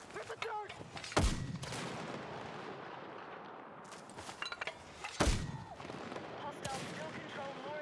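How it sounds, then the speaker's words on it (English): Mortar rounds boom in a first-person military video game, two heavy thumping impacts a few seconds apart amid distant gunfire and battle noise, with game voices and a player talking faintly underneath. "I can just mortar their fucking spawn."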